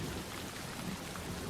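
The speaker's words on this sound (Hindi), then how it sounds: "रात के 1 बजे थे, पर बारिश का कहर बिल्कुल भी कम नहीं हुआ था।" Heavy rain pours down during a stormy night, a dense, constant roar of drops with no pauses and no voices.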